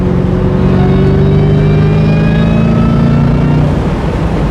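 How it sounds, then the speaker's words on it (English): A 2003 Mustang Cobra Terminator with a six-speed Tremec pulls hard in fourth gear onto a highway, its engine drone rising steadily in pitch, loud and close throughout with no talking. "Little 4th gear pull onto the highway"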